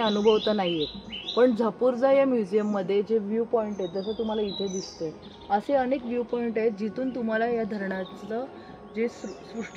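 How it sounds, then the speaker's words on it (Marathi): Birds chirp lightly near Khadakwasla dam, faint high calls scattered beneath a person who talks continuously in the foreground. "आता बघा पक्ष्यांचे आवाज येत आहेत"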